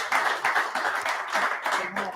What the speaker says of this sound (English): Guys, big applause for Codex.